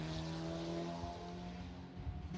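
A Formula Regional race car passes at the Hungaroring circuit during qualifying, its high engine whine rising and falling at a moderate distance over a brief stretch.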